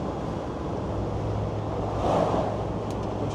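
Steady broadband wind roar through an open window of a moving 10P Land Rover Defender Td5 with a stage 2 remap, climbing a hill, with a low drone of engine and road noise underneath and no talking.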